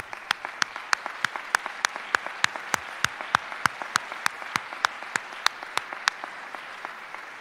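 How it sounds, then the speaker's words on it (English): A round of applause fills a hall during a university athletics hall of fame induction ceremony, with sharp claps sounding in steady succession across the whole stretch at moderate volume. "we can give you a round of applause"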